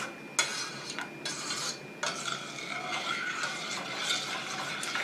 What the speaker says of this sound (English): I just want to dissolve the sugar and whisk all of these spices and things together